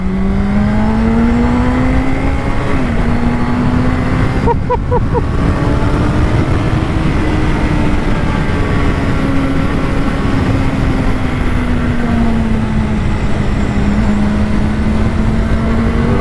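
A Honda CBR600RR sport motorcycle engine pulling along a road, a loud continuous whine that rises and settles through the gears, heard close up with strong wind rush and no speech.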